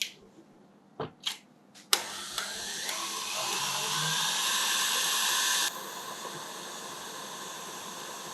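After a few soft knocks, an electric mixer beats white chocolate mousse mixture in a steady, close, high whir for several seconds, then cuts off, leaving a quiet room.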